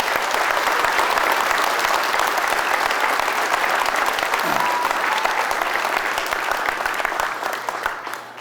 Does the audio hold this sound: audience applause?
yes